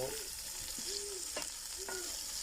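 Chopped cabbage fries in a pan for a potato-cabbage dish, giving a steady close sizzle with a few brief tonal squeaks above it.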